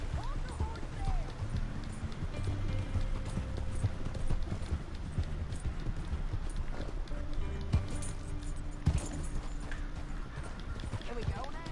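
Horse hooves clip-clop steadily in Red Dead Redemption 2, a continuous rhythmic trot heard at moderate level beneath game music and character dialogue.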